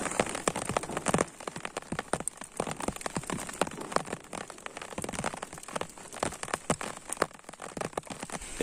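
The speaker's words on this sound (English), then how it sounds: "I wasn't expecting this rain" Heavy rain pattering and crackling on surfaces in an outdoor survival setting, a dense continuous patter of close drops with no voices.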